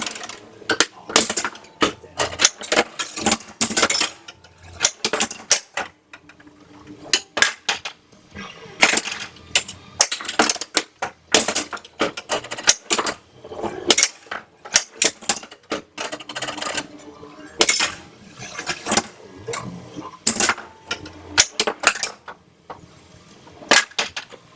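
A pinball machine fitted with a Venom bell tower mod being played with the glass off, loud rapid clacks, bangs and rattles of flippers and ball in dense irregular bursts throughout, no talking.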